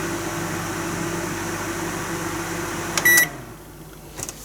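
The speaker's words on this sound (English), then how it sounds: "you must remember to remove the foil if you're microwaving them" A microwave oven hums steadily while heating a sticky toffee sponge, then the run ends with a sharp beep and the hum cuts off, followed by a faint click or clatter near the end.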